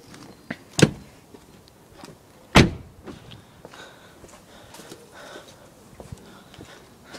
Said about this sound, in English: I'm gonna shut the door and sit in the driver's seat now.